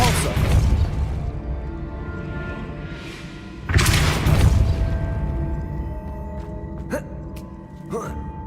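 Magical Depulso spell blasts in Hogwarts Legacy: two loud thumping bursts with rumbling tails, followed by brief sharp whooshes, close, with a voice heard amid the effects.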